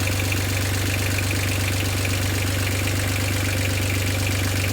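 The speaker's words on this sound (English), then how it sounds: "catamarans obviously like using both engines, and we need to use the other engine" Catamaran engine running at a steady idle, a loud, unbroken low drone with a faint rhythmic knock throughout, alone with no voices.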